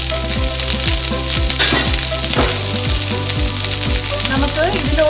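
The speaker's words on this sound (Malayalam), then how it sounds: "പെട്ടെന്ന് തന്നെ ഉള്ളി വഴണ്ട് കിട്ടും." Onions sautéing in a pan for a Kerala chicken varattiyathu, with a steady, loud sizzle and repeated stirring strokes against the pan, heard up close with no talk.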